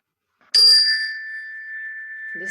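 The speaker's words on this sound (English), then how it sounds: "Listen to the sound of the bell." A single bright bell strikes once and its clear tone rings on, slowly fading over a couple of seconds in an otherwise quiet setting, with a faint voice starting at the very end.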